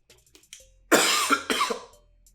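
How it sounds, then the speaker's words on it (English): A person coughs twice in quick, harsh bursts close to the mic, preceded by a few faint clicks and breaths. "I'm sorry for coughing."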